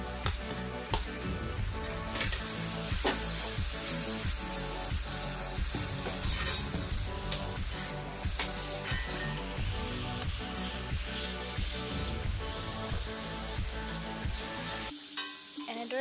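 Boiled taro stems fry in a wok with a continuous loud sizzle, broken by regular scraping strokes of a stirring spatula at close range, with no talking.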